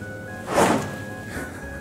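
A golf swing trainer fitted with a wind-resistance fan cuts through the air in one loud, broad whoosh that swells and fades within about half a second, followed by a fainter second rush of air.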